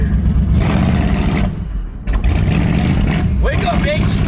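A cheap Cadillac with fender-exit exhaust revs hard and close, a loud throaty drone that dips briefly then surges back, with voices talking over it.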